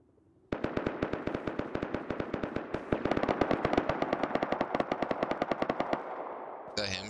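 Rapid automatic gunfire from the survival video game Rust, a long fast burst of sharp, evenly spaced shots that runs for several seconds, loud and close, then stops abruptly.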